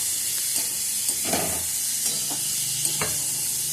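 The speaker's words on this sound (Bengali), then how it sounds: "এবার ওলকপিটাকে আগে মশলার সঙ্গে ভালো করে কষে নেব।" Kohlrabi fries with spices in a pan, a soft continuous sizzle broken by several sharper scrapes and knocks of stirring at irregular intervals, close and without speech.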